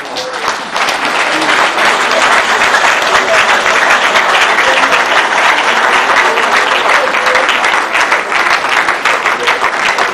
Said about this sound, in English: that one was like when 20 people are clapping